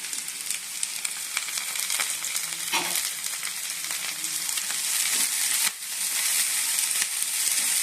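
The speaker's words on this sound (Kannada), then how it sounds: "ಇವಾಗ ಹಸಿಮೆಣಸಿನಕಾಯಿ ಹಾಕೊಳ್ಳೋಣ." Green chillies crackle and sizzle in hot tempering oil for a Karnataka-style okra and cluster bean stir-fry, a steady broadband frying hiss with occasional stirring clinks and scrapes, close and continuous throughout.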